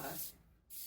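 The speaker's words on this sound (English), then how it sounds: "I've got this baking spray this is especially for baking." Baking spray with oil and flour hisses from a can into a 9x13 pan in two short close bursts separated by a brief pause.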